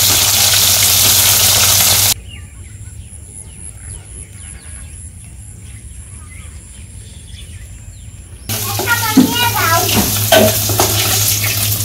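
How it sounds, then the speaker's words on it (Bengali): Small local fish sizzle loudly in hot oil in a wok in a village kitchen; the frying hiss is strong at first, drops to a quiet stretch with faint birdsong, then the crackling sizzle returns loud. "বাকি মাছগুলো ভেজে নেই।"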